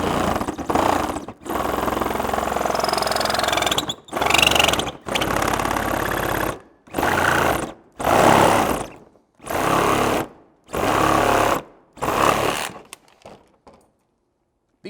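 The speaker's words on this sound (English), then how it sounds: "I am going to finish that little bit off with the Sawzall" A Sawzall reciprocating saw cuts through a Toyota 4Runner bumper in repeated loud, buzzing bursts of roughly a second or two each, separated by short pauses, close by and with no talk.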